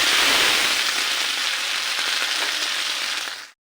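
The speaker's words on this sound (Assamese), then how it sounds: "মছলাটো ভাজা হৈ গ'ল" Masala spice paste frying in a pan while jackfruit curry is being cooked, giving a loud, steady, close sizzle that crackles throughout, with no talking, before stopping abruptly.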